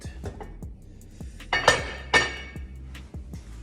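A hot cast-iron Dutch oven is handled for baking homemade white bread, giving a series of sharp metallic clinks and clanks, two louder knocks in the middle, with a few lighter taps around them.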